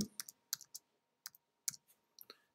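A name typed into a search field on a computer keyboard, with a quiet, sparse run of light key clicks spaced unevenly over a couple of seconds.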